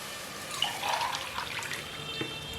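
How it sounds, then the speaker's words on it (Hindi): Water trickles and splashes briefly into a pot of frying pulao, soft and close, with a few drips near the end. "चार गिलास पानी ऐड कर देंगे,"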